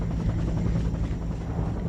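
Bell UH-1 Huey helicopter with a loud, steady rotor thump and turbine drone, close and continuous throughout, no voices.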